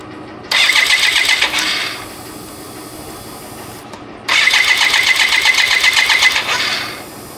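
A BMW K75RT motorcycle turns over twice with the starter, each attempt a loud, close whirring crank of about one and a half to three seconds, with a low idle rumble between.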